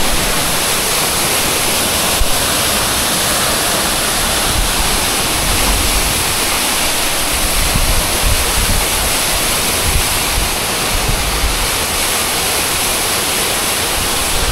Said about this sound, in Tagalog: Medyo brown yung tubig niya at saka malakas yung agos.